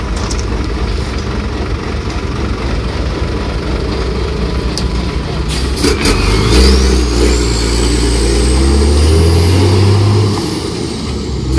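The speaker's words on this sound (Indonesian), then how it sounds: "Kemudian di sini juga kita bisa melihat arus mudik kendaraan proyek ya." Project vehicles and trucks pass over a bridge road at a construction site, a loud continuous engine rumble with a heavy vehicle swelling closer and revving midway, under steady outdoor noise.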